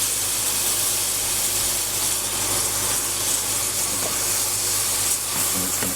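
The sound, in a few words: brown onion frying in pressure cooker pan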